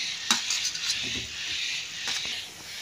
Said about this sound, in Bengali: আলু আর সয়াবিনটা একটুখানি ওর সঙ্গে কষিয়ে নেব, মশলাটার সঙ্গে ভেজে রেখেছিলাম এগুলো দিয়ে দিচ্ছি।